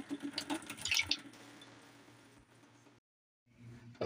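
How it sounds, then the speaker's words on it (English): Tap water runs into a cooking pot holding a potato, a steady splashing rush that tapers off and stops for a moment before running again briefly. "I kind of want to fill the water up a little bit over it."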